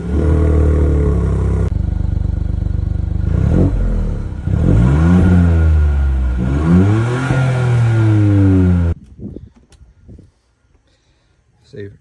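2022 Ford Fiesta ST three-cylinder hot hatch engine revving, loud close throttle blips rising and falling repeatedly, then cutting off to near quiet.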